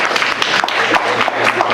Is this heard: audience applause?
yes